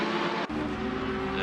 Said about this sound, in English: And Nick very, very close to the back of the Marmite car.